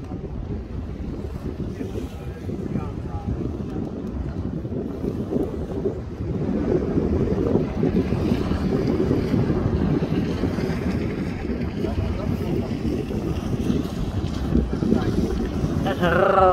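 Busy sea with boats passing, wind buffeting the microphone over a low rumble of engines and waves that grows louder partway through, with voices talking.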